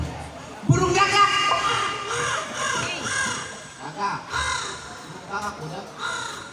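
A voice mimics a crow, giving a series of loud, raspy caws in quick succession during a Sundanese comedy routine, with a faint crowd murmur behind.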